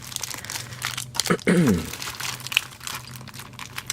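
Clear packing tape crinkles and crunches as it is handled and cut, a short burst of crackling close to the microphone with faint indoor background noise.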